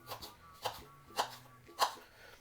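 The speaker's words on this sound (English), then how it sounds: "when you're cutting the Scotch bonnet now, you just wanna" A knife chops through a Scotch bonnet pepper for Bajan fish cakes, giving four sharp, evenly spaced taps on a cutting board, close and fairly quiet over a faint steady hum.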